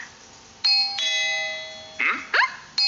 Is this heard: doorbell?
yes